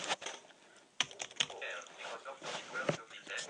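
Keys clack in quick irregular bursts while typing on a keyboard paired with a HumanWare Brailliant BI 32 braille display, close and fairly soft, with scattered louder taps and brief pauses.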